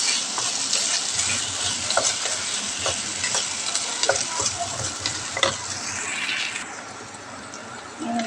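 Small diced pieces of beef fry in a pan with a continuous, close sizzle, broken by scattered light clinks of stirring and a short scrape near the end.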